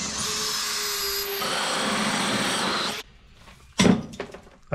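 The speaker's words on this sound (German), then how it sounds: "Ich habe jetzt hier einfach irgendeinen so alten Bohrer genommen." A power drill fitted with an old, worn drill bit whirs against drywall to mark a centre point. It runs steadily for about three seconds, then stops, followed by a few short clunks and scrapes nearby.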